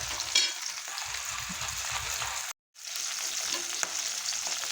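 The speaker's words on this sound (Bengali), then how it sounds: "মাছ আমার এক পিঠ লাল করে ভেজে নিয়েছি" Katla fish pieces frying in oil give a steady close sizzle with soft crackles, briefly cut off by a moment of silence before the frying resumes.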